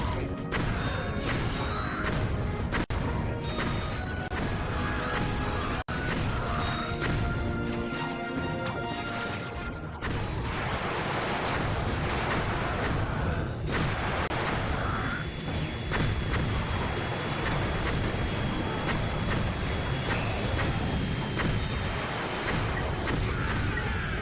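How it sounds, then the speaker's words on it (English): Shock blaster fire and dense combat noise from the Ratchet and Clank: Up Your Arsenal video game, with repeated crashes, whacks and booms layered over continuous mechanical clatter throughout, with no voices. "Just gonna keep using the shock blaster till it's maxed out."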